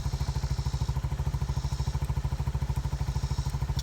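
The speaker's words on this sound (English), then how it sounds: "That's a good engine." A Lifan KP Mini 150cc motorcycle engine runs smoothly and quietly at a steady idle, giving a fast, even train of low thumps close by with no voices.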